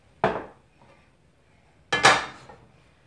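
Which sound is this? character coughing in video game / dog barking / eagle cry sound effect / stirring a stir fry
stirring a stir fry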